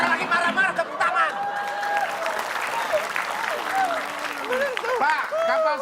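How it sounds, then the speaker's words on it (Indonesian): An audience claps in sustained applause while several voices talk and call out loudly over the clapping throughout. "Ini malah tepuk tangan lagi."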